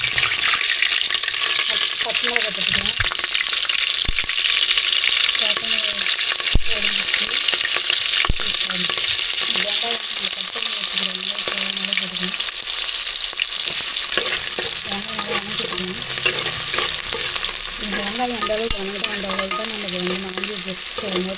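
Mustard seeds splutter in hot oil for a mutton curry, giving a loud, dense, continuous crackling sizzle with stirring throughout. A voice is faintly audible underneath at times.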